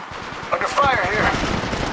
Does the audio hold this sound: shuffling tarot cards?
no